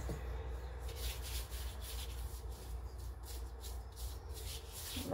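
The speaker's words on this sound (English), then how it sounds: "get that excess flour off my hands" Hands rubbing together to brush off excess flour while making pumpkin hard dough bread, a soft, continuous dry scrubbing and rasping close by, quiet and steady.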